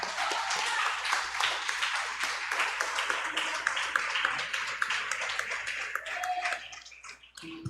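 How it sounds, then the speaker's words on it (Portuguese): Church congregation applauding, a dense, sustained patter of many hands clapping close by, fading out toward the end. "Dá uma salva de palmas para essa palavra."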